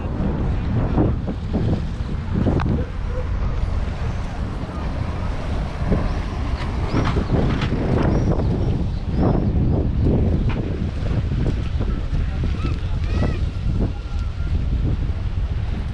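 Strong wind buffets the microphone at Alsancak harbour in İzmir, producing a loud, continuous roar with gusty thumps and rumbling throughout, and no clear speech.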